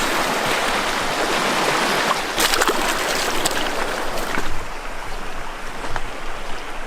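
Rapids on a creek in the Superstition Wilderness rush steadily, a loud, continuous broadband roar of flowing water with a few brief splashes and knocks mixed in.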